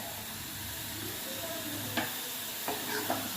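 Wild mushrooms are sautéed on a low flame, a soft continuous sizzle under a few brief scraping stirs of a spoon against the pan.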